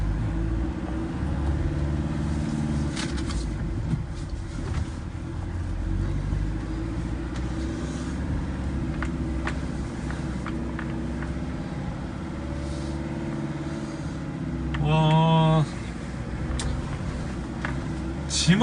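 A 2005 Hyundai Porter double cab one-ton truck driving, steady low engine and road rumble heard from inside the cab, with someone talking over it and a brief chime near the end.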